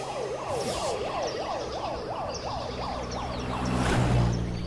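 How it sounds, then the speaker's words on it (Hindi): An arriving ambulance's siren wails up and down in a fast, regular rise-and-fall cycle, a little way off and fairly faint, over low traffic rumble that swells slightly near the end. "लो एम्बुलेंस आ गई है।"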